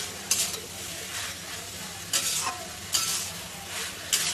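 Mustard paste ground with a pinch of salt is stirred and mixed in a frying pan for a taro-stolon curry: a steady low sizzle with several sharp scraping strokes of the spoon at uneven intervals, close up, no voices.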